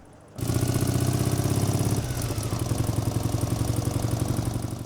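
A Soviet IZh motorcycle engine idles steadily close by, starting abruptly after a brief quiet moment and holding a throbbing, even rhythm with a slight shift in tone partway through.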